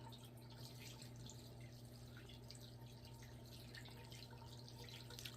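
Dirty water drains from the drain hose of a church floor scrubber into a floor drain, a steady trickling, dripping flow with a constant low hum beneath it, close and moderately quiet throughout.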